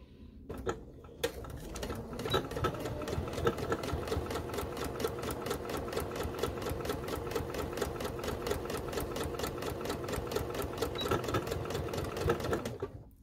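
A sewing machine stitches through paper, a steady rapid mechanical chatter of the needle running close and continuous for several seconds after a few brief starting clicks.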